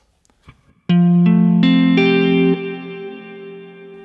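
Electric guitar played clean through an Empress reverb pedal in hi-fi mode, with lows scooped and treble turned down: four plucked notes ring out in quick succession, then a long reverb tail decays alone.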